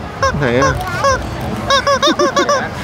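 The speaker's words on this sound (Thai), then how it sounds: "ไก่โอ๊กจิ๋ว" A small squeeze toy chicken honks in a run of short, goose-like squawks, first a few drawn-out honks then a quick burst of about six, close and loud, with a brief voice beneath.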